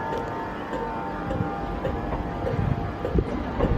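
A train pulling out of Leeds station bound for King's Cross, a close, steady low rumble of engine and wheels with faint rhythmic clicks over the rails, slowly building in loudness.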